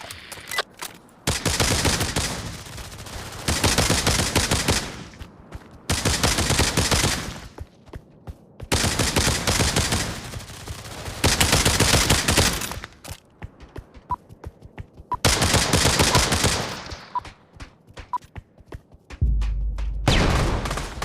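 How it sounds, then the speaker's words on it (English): Loud, close gunfire from the Pavlov VR shooter game, Trouble in Terrorist Town mode, comes in long rapid automatic bursts separated by short pauses and ends with a deep thump. "Who's shooting me?"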